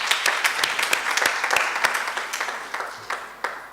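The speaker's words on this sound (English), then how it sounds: "Please give them a round of applause." School debate audience giving a round of applause after results are announced, a brisk patter of many hands clapping that thins toward the end into scattered claps.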